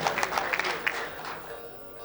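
An audience claps briefly at a music gathering with zurna and balaban players, a close patter of hands that fades out within about two seconds.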